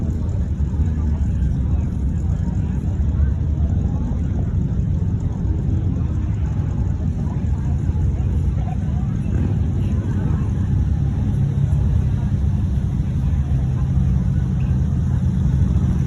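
An Audi RS6 wagon pulls away at a cars and coffee meet, its engine a steady, fairly loud low rumble that holds even across the whole stretch, with crowd noise around it.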